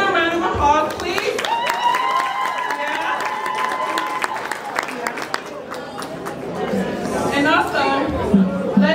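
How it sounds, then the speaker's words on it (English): Wedding guests applaud and chatter at an outdoor celebration, with a broad wash of clapping and crowd noise running throughout and voices talking over it. "Can we get a round of applause, please?"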